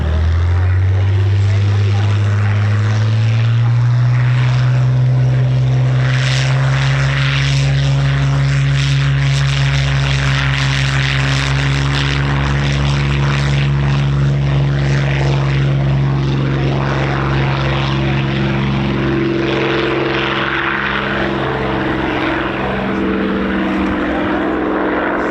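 A Hispano Buchon propeller aircraft taxis at an air show, its piston engine droning loud and steady throughout with a slowly shifting pitch.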